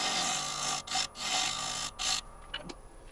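Woodturning tool cutting a tenon on a highly figured English walnut bowl: two bursts of broadband scraping hiss with brief pauses, close and steady, then quieter light tapping.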